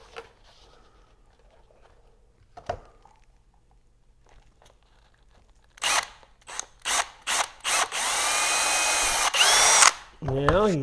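Power drill with a bit boring a rivet hole in a GMC motorhome during window valance installation: several short close bursts of whirring, then a sustained loud whine, after faint handling noises.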